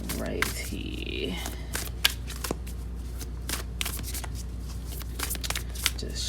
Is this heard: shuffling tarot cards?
yes